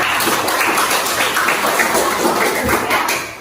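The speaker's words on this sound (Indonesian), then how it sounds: "Tepuk tangan dulu untuk Bakti." Steady applause from a classroom of students, dense overlapping claps filling the room at an even level before tapering off at the end.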